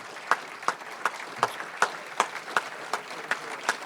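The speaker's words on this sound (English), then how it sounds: "Let's give a huge round of applause for all of those that have stepped up." An audience applauds after an announcement, with sharp claps landing at an even, regular rhythm for a few seconds and no talking over them.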